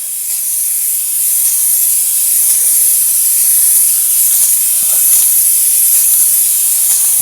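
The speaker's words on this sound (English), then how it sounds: "So I sprayed the back side of this with a couple of mist coats of spray adhesive." Spray adhesive misted from an aerosol can onto the back of a stencil, a steady broad hiss holding for about seven seconds with faint flickers in the spray, no voice over it.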